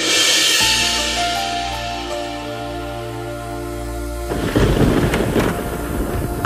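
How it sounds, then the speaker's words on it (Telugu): Thunder rumbles as rain approaches, a low sustained roll under a droning background tone, then breaking into louder crackling bursts near the end. "అబ్బా రండి, వర్షం వచ్చేటట్టుంది."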